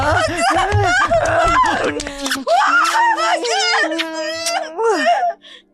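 A woman in a dramatized Filipino horror story cries out in a series of anguished, wavering screams and wails, loud and close, with moaning and sobbing-like vocal bursts throughout.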